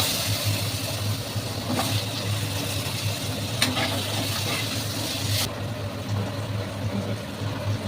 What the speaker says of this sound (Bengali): তো চলো এগুলো ভেজে নিই, আলুগুলো দিয়ে দিচ্ছি